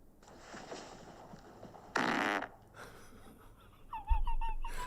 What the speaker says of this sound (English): I'm going to record what's about to come out my bum and put it in the fart group